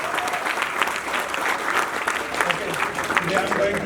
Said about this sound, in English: Give a huge round of applause for Tanweer.